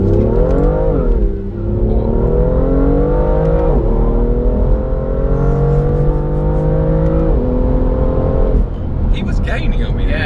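A BMW M240i accelerating hard in first gear from a rolling start at about 20 mph, a loud, close engine note climbing steadily in pitch through two upshift dips, with people talking over it.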